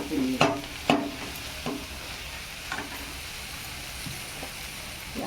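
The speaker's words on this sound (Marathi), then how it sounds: "1 चमचा भाजी मसाला सगळं परतून घ्यायचं." Chilli powder and vegetable masala being sautéed in a pan for soybean curry, soft sizzling broken by a few sharp scraping stirs of a spoon, close and moderate, with no talk.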